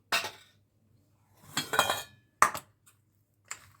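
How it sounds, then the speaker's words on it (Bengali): A spoon stirs a milk mixture in a pan as it melts down for an eggless chocolate strawberry pie, giving a few separate clinks and scrapes against the metal, with short gaps of quiet between them. "এইটাকে ভালো করে মেল্ট করে নেবো, মিশিয়ে নেবো এটাকে।"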